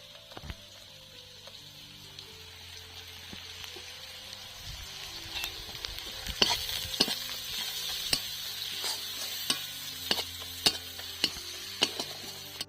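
Kashmiri chili powder and spices being stirred and fried in a pan for Bengali chicken posto, with a steady sizzle and repeated sharp scrapes and taps of a spatula that get louder toward the end, no voices.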